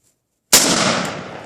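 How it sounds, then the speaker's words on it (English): A single loud rifle shot sets off 2 lbs of Tannerite packed at a tree stump outdoors, a sharp sudden blast that rolls into a long, fading rumble. "Let me know before you're gonna shoot, Bobby."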